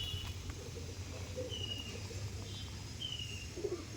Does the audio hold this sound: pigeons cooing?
yes